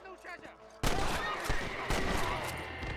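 Dense rapid gunfire from a shootout in Red Dead Redemption erupts suddenly and loudly after a brief quieter moment, with overlapping shots continuing as a fusillade and a voice talking over it.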